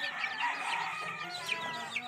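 Hens and a rooster cluck in a yard, a busy chorus of layered calls at moderate distance with a few sharper cries standing out.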